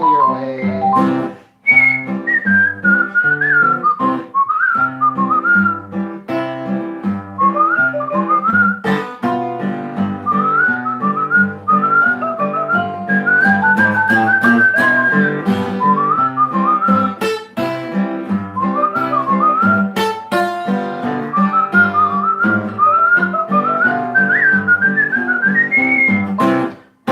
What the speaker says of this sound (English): he whistled in his own peculiar way